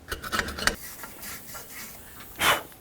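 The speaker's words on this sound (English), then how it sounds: "So just go ahead and sand that down once you're done cleaning the inside." Hand sanding of the cleaned hub bearing mounting surface on a 2000-2005 Buick LeSabre rear wheel, heard as a few close, rasping rubbing strokes, a quick cluster at the start and one louder pass near the end.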